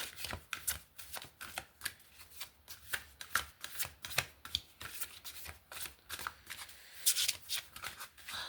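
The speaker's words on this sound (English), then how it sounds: "These cards are hard to shuffle." Crisp, rapid riffling of a stiff new deck of playing cards, repeated in quick bursts close up with short pauses between shuffles.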